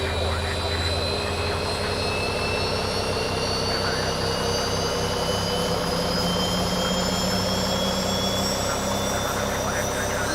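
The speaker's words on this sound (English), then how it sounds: "Starting engine number 2." A Boeing 737 jet engine spools up during start in a flight simulator game, a loud steady roar with rising whining tones climbing gradually over ten seconds, while someone talks over it.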